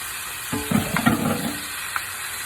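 Tomato, onion and garlic sautéing in a hot pan for a Filipino ginisa, giving a steady close sizzle with a few brief stirring clatters and spatters.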